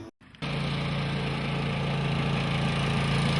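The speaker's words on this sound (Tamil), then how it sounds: "டிராக்டர்ல எடுத்துட்டு வந்துட்டியா?" A farm tractor engine idles steadily and close by after a brief dip at the start, with a constant low hum and no talk.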